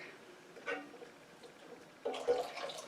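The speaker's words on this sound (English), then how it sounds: "But it's pour in my milk" Milk is poured into a Dutch oven pan while making broccoli cheese soup, a soft, quiet liquid splash heard in two short bursts, the second longer and a little louder.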